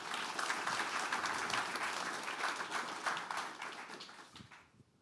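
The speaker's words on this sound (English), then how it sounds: "if we could just give our panelists one more round of applause" Audience applause for the panelists at a talk on nonprofit journalism, a dense, steady round of clapping that holds for several seconds and then thins and fades out toward the end.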